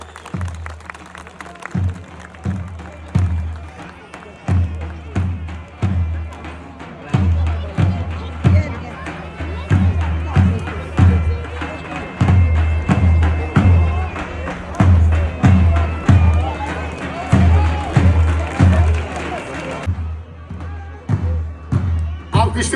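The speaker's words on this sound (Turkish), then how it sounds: "Baş pehlivanlarımıza hep beraber alkışlarla diyelim maşallah" Crowd applause at a Turkish oil wrestling festival in Çamlıdere, heard as rhythmic clapping in steady bursts that fill the whole stretch before fading near the end, with an announcer's voice over the top.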